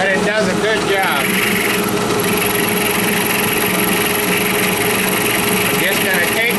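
A large workshop fan roars loud and steady throughout, a constant broadband whir with a mechanical hum, while someone speaks over it.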